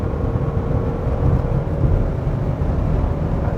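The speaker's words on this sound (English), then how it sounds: "let me just put the car into sports mode, and when you slam on it, pulls very nicely and sounds pretty good too" Genesis G90 sedan, not a V8, accelerating hard in sport mode: a steady, loud engine and road roar that swells slightly midway, with no talking over it.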